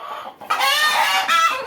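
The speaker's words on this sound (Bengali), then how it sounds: "এই যে মুরগিগুলা" A large tiger-breed chicken gives a loud, close, drawn-out cluck and crowing call after a brief pause, strained and throaty across most of the short moment, with no talking.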